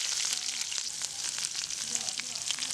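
Onions and garlic frying in hot oil with curry leaves give a steady, close sizzle with a broad hiss that runs throughout, broken by faint crackles and a few soft stirring scrapes.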